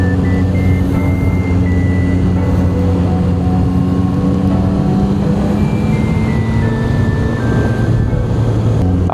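A Yamaha MT-09 motorcycle on the move, a loud steady engine drone with rising and falling tonal whine as revs shift, heavy wind rush over it and nobody talking.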